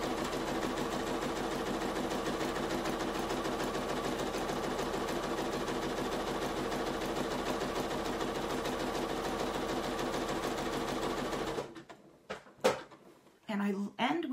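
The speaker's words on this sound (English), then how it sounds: "I stitch off the edge and turn it without ever cutting or breaking my thread." A domestic sewing machine runs a continuous zigzag stitch for about eleven seconds, loud and close, then stops; brief handling clicks and knocks follow as the fabric is turned.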